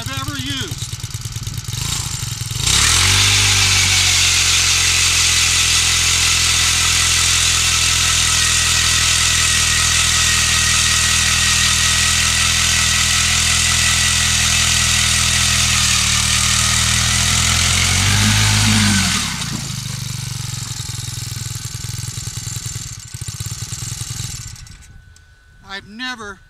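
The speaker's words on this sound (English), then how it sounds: "I've never used an auger that cuts as fast, starts the first time, and as quiet as this next to an electric auger." An ice auger runs while ice fishing on Gillette Lake, Wyoming, giving a loud, steady motorized whir for about sixteen seconds before winding down to a quieter rumble and fading.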